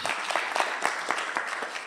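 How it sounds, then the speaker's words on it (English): An audience at an international refugee law moot court competition claps in a brief, dense burst with individual hand claps standing out, steady throughout with no voices. "Let's clap for her again."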